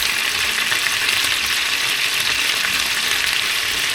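Chicken tinola ingredients sizzle in a hot pan while being sautéed, a steady, dense frying hiss that stays loud and even throughout with no talking.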